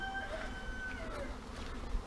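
Steady, low insect buzzing from bees fills the scene, a continuous drone with a few faint tonal chirps drifting over it.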